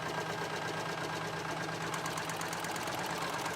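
A sewing machine finishing the edges of a pocket on a shirt being converted, running in a fast, steady mechanical whir with an even pulsing rhythm, close and moderately quiet.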